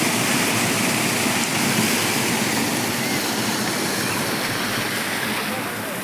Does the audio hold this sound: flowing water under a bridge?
yes